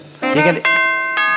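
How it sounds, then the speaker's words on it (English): A doorbell chime rings out at a mayors forum luncheon as a speaker's time signal, a clear two-tone ding-dong whose bright ringing tones sustain and fade, with a short burst of background voices at the start. "That's the doorbell, and that's the sign to land the plane"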